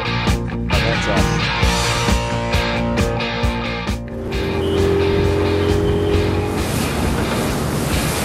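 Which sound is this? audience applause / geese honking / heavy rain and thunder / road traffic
road traffic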